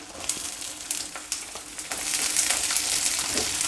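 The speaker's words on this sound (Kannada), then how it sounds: "ಎರಡೇ ಎರಡು ಹಸಿಮೆಣಸಿನ್ಕಾಯಿ ಹಾಕಿದ್ದೀನಿ ಇಲ್ಲಿ ಮತ್ತು ಈರುಳ್ಳಿ" Green chillies and onion fry in a pan for a sesame chitranna rice dish, giving a steady close sizzle punctuated by clicks and scrapes of stirring that grows louder and denser toward the end.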